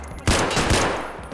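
Two loud, close gunshots in Escape from Tarkov, about half a second apart, each with a ringing tail.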